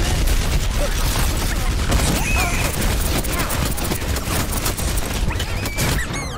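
Bastion's turret in the video game Overwatch fires a dense, continuous stream of rapid shots at close range, mixed with other battle noise and scattered effects, loud throughout.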